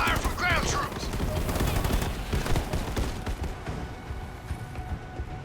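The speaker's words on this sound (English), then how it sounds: "Under fire from ground troops!" Dense gunfire from ground troops in the Halo Wars 2 video game, rapid overlapping bursts and shots crackling continuously for several seconds, with a voice speaking over the battle noise.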